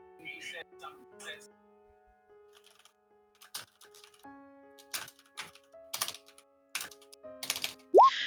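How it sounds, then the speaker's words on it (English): Typing on a computer keyboard picked up over an open microphone during an online roleplaying game session, a run of scattered clicks and taps, fairly faint, with a few brief tones and voices around it. "we can hear you typing"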